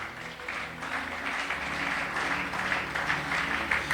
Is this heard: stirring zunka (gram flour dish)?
no